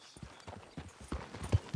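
Horse hooves clip-clopping in a steady walking rhythm in the video game Red Dead Redemption 2, close and moderately loud with no talk.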